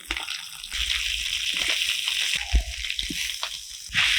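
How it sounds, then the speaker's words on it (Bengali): Boiled potatoes are mashed by hand for chilli fritters, with soft wet squelching and squishing sounds, close and fairly quiet, with a couple of sharper presses. "এখানে কয়েকটা আলু আমি আগে থেকে সিদ্ধ করে রেখেছি সেগুলো হাত দিয়ে ম্যাশ করে দিয়ে দেবো"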